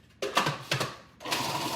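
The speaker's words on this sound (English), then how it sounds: "all I do is throw them in the food processor like this." A food processor grinding old Italian bread slices into breadcrumbs, with short whirring bursts and rattling pieces, then a sustained run of the motor, close and loud.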